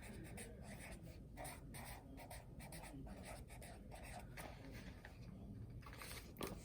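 Pencil or marker writing on a surface during a geometry lesson about rectangles, a steady scratchy stroking that runs continuously for several seconds, close and fairly clear, with no talking.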